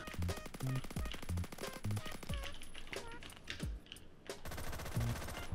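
Suppressed M4A1 rifle fire in the shooter game Phantom Forces comes in quick, rhythmic bursts of muffled, clattering shots with short pauses between volleys, fairly quiet overall.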